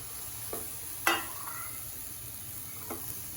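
Salted greens sauté in a pan over a high flame with a soft, steady sizzle. A few stirring scrapes and clinks come through, the sharpest about a second in, with quiet frying in between.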